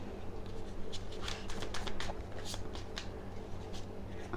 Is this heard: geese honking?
no